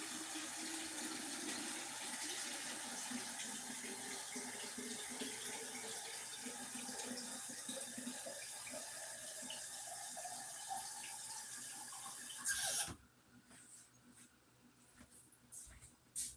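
Hot water pours steadily from a kitchen tap during home canning of pickles and tomatoes, a close, continuous rushing splash that cuts off abruptly near the end, leaving faint clinks and handling noises.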